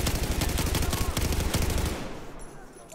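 Rapid sustained automatic gunfire in the video game Battlefield 4, a dense loud fusillade of shots for about two seconds that then cuts off, leaving quieter background game sound.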